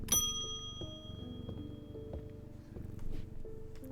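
A bell rung by the player in the video game Strange Antiquities gives a bright ding at the start, and its ring decays over several seconds. Layered game music plays underneath.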